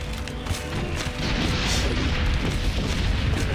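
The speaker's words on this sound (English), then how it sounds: "they're actually dropping shells on us now" Artillery shells explode in the Valiant Hearts video game at Chemin des Dames, a continuous heavy barrage of booming blasts and crashing bursts, loud and dense with no pause.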